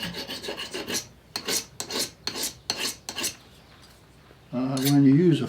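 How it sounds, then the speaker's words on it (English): A hand file rasps a burr off the back of a hand-forged iron piece in a blacksmithing demonstration, a series of about eight quick scraping strokes in a steady rhythm, followed by a pause and a brief voice. "so we'll just file that off real quick"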